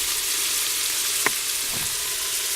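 Beef stroganoff frying in an Instant Pot, a loud continuous sizzle with a single sharp scrape of a stirring utensil and a softer follow-up stroke, close and without talk.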